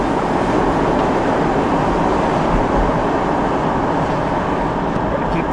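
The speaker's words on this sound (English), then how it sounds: "CSX now because there's a CSX coming." A CSX freight train rolls past close by with a loud, continuous roar and rumble of wheels and cars that holds steady the whole time.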